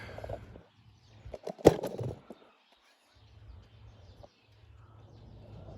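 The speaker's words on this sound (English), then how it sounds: "you can hear all the birds around me, fluttering around me" Small birds around an orange tree outdoors, a few faint chirps and calls with a brief louder flutter, scattered and quiet against a low background hum.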